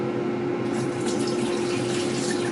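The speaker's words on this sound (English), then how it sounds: "what I have decided to do is drain the water from these" Water from a pot of boiled potatoes pours steadily into a kitchen sink, a continuous close splashing rush with no talk.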